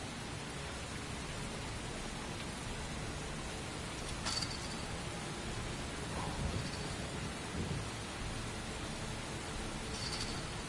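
Steady rain pours down with a few rumbles of thunder in the video game Heavy Rain, a continuous wash of downpour with occasional louder cracks and no talk.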